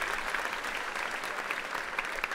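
A crowd in a theatre audience keeps up continuous applause for a guest, a thick patter of many hands clapping evenly from start to finish without speech.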